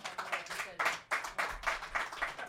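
A live audience claps in several uneven bursts, with close, crisp hand claps that rise and fall over a couple of seconds.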